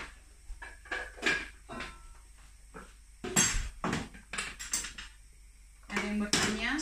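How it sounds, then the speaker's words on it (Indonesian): Cooking ingredients are ground smooth by hand for a homemade teriyaki sauce, giving irregular scraping and creaking strokes, close and fairly quiet, in short bursts with pauses between. "Nah ini saya haluskan"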